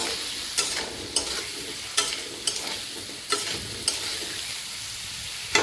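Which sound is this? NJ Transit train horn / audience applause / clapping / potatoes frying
potatoes frying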